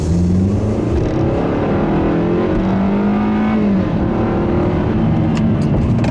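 Inside a 2015 Hyundai Sonata, the four-cylinder engine drones loudly and steadily, its tone rising and falling with revs that linger after throttle lift, a continuous close hum.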